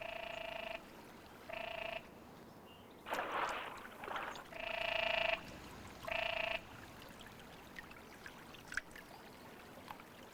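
Male frogs croak across open water at night, strong harmonic calls in four separate bursts that stop and start. A brief splashy wash of sound breaks in between them, and the air falls quiet afterward.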